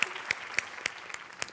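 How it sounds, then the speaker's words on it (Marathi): Audience applause on a Marathi comedy stage show comes as a few sharp, evenly spaced rhythmic claps, fairly faint and close together. "जोरदार टाळ्या."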